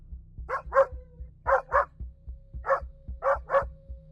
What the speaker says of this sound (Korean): 갑자기 타케루가 엄청난 기세로 짖기 시작했다